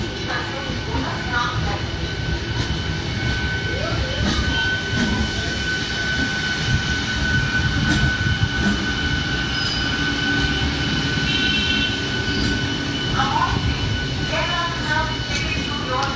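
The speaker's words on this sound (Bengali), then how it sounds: "ডাউন লোকাল ট্রেনটি হুগলি রেলওয়ে স্টেশন অভিমুখে যাচ্ছে।" A new down local train on the Eastern Railway runs toward Hooghly station, a continuous loud rumble and wheel clatter with faint squeals and a steady high whine throughout.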